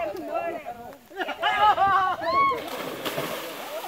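Someone falls into water with a sloshing splash, while excited voices talk and shout over the commotion outdoors.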